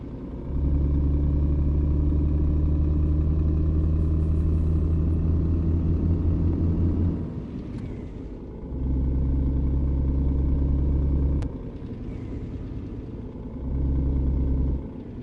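A truck engine in a driving simulator game rumbles steadily while hauling a trailer, a loud low drone in long sustained stretches that dip briefly between passes.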